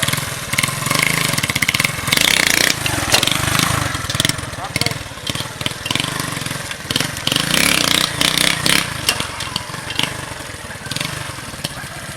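A motorcycle engine runs loudly and steadily throughout, its pitch rising and dipping as it revs, with brief changes suggesting gear shifts.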